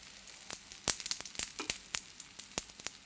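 A sponge dosa made from curd and semolina sizzles in oil on a hot pan just after being flipped, a close hiss broken by sharp pops and crackles, with no talking.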